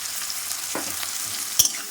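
Onions frying in a pan for Bengali egg curry, with a steady close sizzle and a couple of spatula scrapes, one sharper clatter near the end.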